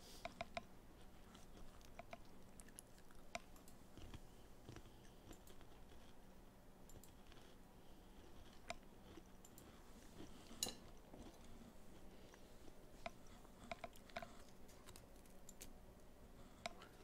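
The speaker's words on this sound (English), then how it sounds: "I'm sorry if you can hear me chewing." Close, quiet crunching and clicking from someone eating Oreo cookies without milk, a steady patter of small irregular bites and chews under a faint room background with no talking.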